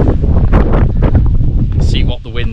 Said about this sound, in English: I'm a bit like thinking it might be a bit too windy